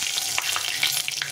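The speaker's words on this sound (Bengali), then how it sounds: "এখন দিয়ে দেবো 1/2 চামচ মতো জিরে।" Cumin seeds crackle and spit in hot mustard oil, a loud, close fry punctuated by quick pops and scraping stirs.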